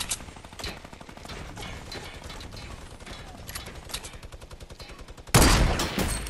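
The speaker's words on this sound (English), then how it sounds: "Trying to shoot down my base like that" Gunfire aimed at a player-built base in Fortnite Battle Royale, rapid rattling bursts running steadily throughout, then a sudden louder, denser blast of shots near the end.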